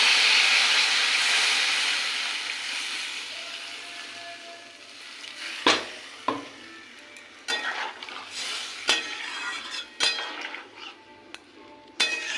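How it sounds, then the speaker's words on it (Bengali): Tomato and spice paste for a khoira fish curry hisses and sizzles loudly in the pan as water goes in. The sizzle fades over a few seconds, followed by scattered clinks and scrapes of a stirring utensil. "মশলা কষে আসছে, এবার দিয়ে দেবো পরিমাণ মতো জল।"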